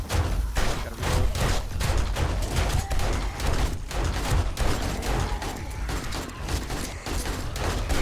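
Rapid gunfire in the zombie survival game 7 Days to Die, a dense, continuous burst of shots and thuds lasting throughout with quieter voices underneath.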